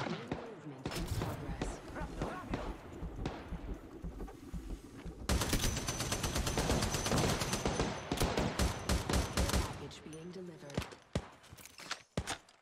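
Rapid bursts of gunfire from Apex Legends Mobile, a mobile battle royale game, crackle through the mix, growing denser and louder in the second half with sharp repeated shots and spoken voices over the top.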